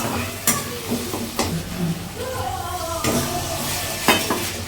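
A yogurt fish curry being sautéed in a pan: steady sizzling with repeated spatula stirs and scrapes against the metal, close and fairly loud, with no talking.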